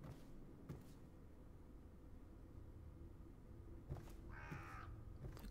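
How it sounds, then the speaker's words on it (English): A crow caws in the video game Dishonored, a short burst of harsh calls standing out over a quiet, noisy ambient background. "A crow."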